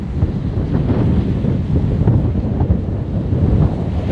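Strong wind buffets the microphone at the tip of Cape York on the northern coast of Australia, a loud continuous roar with gusty rumble and possible surf beneath, with no voices.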